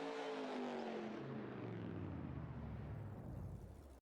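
A truck engine roars at high speed in Farming Simulator 22, loud and steady, its pitch sliding slowly downward as the vehicle eases off before cutting out abruptly.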